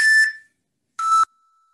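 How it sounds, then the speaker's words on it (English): Two loud electronic beeps from a workout interval clock at a bodyweight bootcamp session, a longer high tone followed by a shorter one after a brief pause, in an otherwise quiet room. "Oh, there it is. That's the beep."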